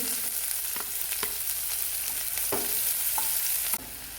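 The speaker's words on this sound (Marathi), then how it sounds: "आपण एक चमचा मोहरी टाकून घेणार आहोत अर्धा चमचा जिरं त्याच्यामध्ये आपण दोन कट करून घेतलेले कांदे" Mustard seeds, cumin and chopped onions fry in hot oil for a Maharashtrian kurdai bhaji, a steady close sizzle broken by scattered pops and spatters, with a sharp clatter near the end.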